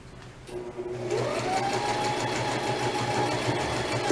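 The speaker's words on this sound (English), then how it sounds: "Actually, I'm going to do a little back stitch over the handles just to make sure it's in there good." A sewing machine stitches a tote bag, back-stitching over the handles; a steady mechanical whirr starts after a quiet half-second and runs evenly, close and moderately loud, with no talking.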